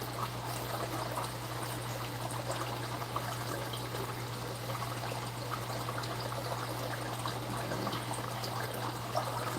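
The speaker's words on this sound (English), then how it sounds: "Top off water buckets filling, Pigpen." Water runs steadily into buckets in a pigpen, a faint continuous pouring and trickling hiss under a low steady hum.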